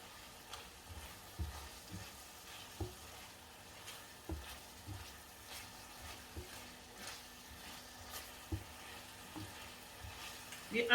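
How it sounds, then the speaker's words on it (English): Chicken fajita sizzling quietly in a frying pan, with a low steady crackle broken by irregular scrapes and knocks of a utensil stirring the meat. "I'm just going to give it a nice stir."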